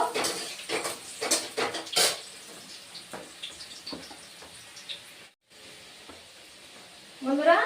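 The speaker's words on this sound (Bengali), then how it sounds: "আলুটা অল্প ভেজে নিয়েছি" Potatoes fry lightly in a pan for a vegetarian ridge gourd and moong dal dish: a soft sizzle with bursts of scraping clatter at the start, a quieter stretch and a brief gap, then the sizzle swells loud again at the end.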